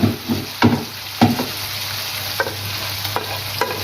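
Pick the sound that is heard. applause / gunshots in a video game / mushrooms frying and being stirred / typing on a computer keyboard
mushrooms frying and being stirred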